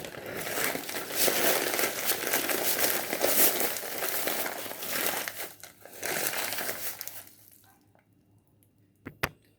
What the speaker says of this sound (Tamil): இப்படி பேப்பரில் சுற்றிங்க.